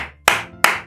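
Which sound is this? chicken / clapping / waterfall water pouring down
clapping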